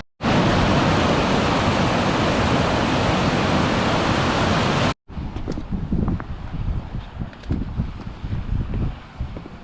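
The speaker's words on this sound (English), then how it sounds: "We've got a lovely waterfall," A loud, constant rushing roar of a waterfall and streams at Cwm Idwal fills the first half, then cuts to a quieter, gusty outdoor wash of flowing water and wind.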